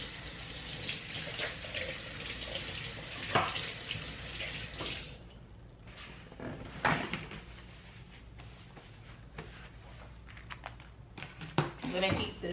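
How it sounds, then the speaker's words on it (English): Tap running in a home sink for a quick hand wash, a steady hiss of flowing water for about five seconds, then shuts off, followed by quieter splashes, clatter and a cupboard-like knock. "let me wash my hands real quick"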